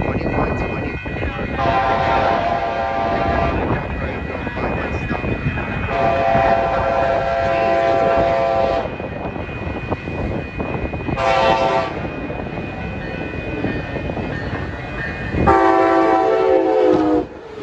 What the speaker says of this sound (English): here comes Captain Porter, train 737